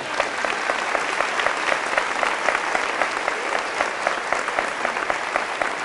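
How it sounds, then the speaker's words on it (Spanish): Sustained applause from a large crowd at a Catholic religious talk, steady and loud throughout, with dense clapping and no speech over it. "para la cual pido hoy un fuerte aplauso"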